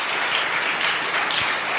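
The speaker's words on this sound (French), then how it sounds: "Nous acclamons." Congregation applauding together in a French-speaking church service, a dense, steady wash of clapping that is loud and close, with no talk over it.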